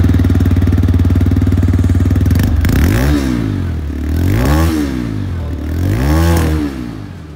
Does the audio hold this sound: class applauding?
no